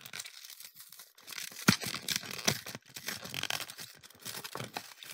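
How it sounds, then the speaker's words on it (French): Paper packaging around a chocolate bar is torn and crinkled open up close, in a run of irregular rips and crackles with a few sharper tears, fairly quiet with no talking. "Alors là, vous entendez le packaging qui s'ouvre."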